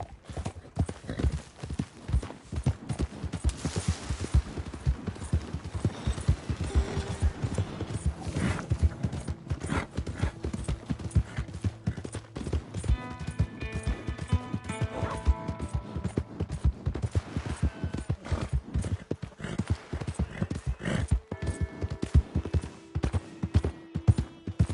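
Horse hooves clip-clop at a steady gallop in the video game Red Dead Redemption 2, loud rhythmic hoofbeats throughout, with brief snorts and faint background tones.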